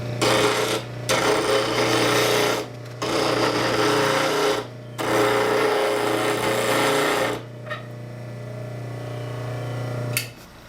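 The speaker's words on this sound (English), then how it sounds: "now we're sharpening." Hollow-ground woodturning tool edge pressed against a spinning grinding wheel, a steady rasping grind in long bursts broken by short pauses over a constant motor hum, then the wheel spinning down with only faint scrapes.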